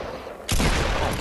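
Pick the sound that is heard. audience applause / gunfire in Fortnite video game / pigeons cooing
gunfire in Fortnite video game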